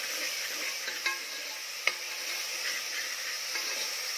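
Onion with ginger-garlic paste fries quietly in a pan for a Kolhapuri mutton rassa, a soft steady sizzle broken by a couple of light utensil clinks and scrapes.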